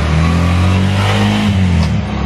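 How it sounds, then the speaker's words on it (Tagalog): A motor tricycle's engine drones loudly and steadily while riding, a close, low, throbbing hum with some road and wind noise and no talk. "Then is a tricycle."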